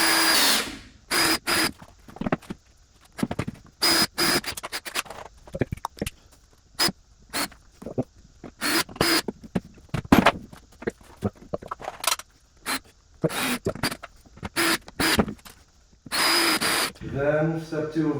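Power drill driving screws into wood while building a music studio, in repeated short loud bursts with pauses between, alongside occasional handling noise and tool clatter.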